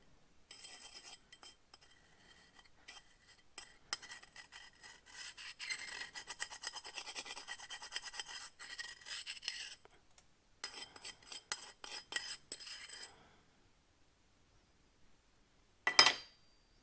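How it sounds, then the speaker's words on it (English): Gritty metallic rubbing as broken debris from a failed Chinese turbocharger is ground down into a fine paste, a steady scratchy rasp in bursts over several seconds, close and fairly quiet, ending with a brief louder knock. "I can almost rub it down into a fine, very fine paste"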